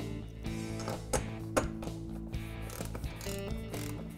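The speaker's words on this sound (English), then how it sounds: "with my half-inch socket, I'm going to remove the two bolts in the front and one in the back on each side" A half-inch socket ratchet works bolts loose from the rear seat frame of a 2008 Club Car DS golf cart, with rapid clicking pawl strokes repeating close by.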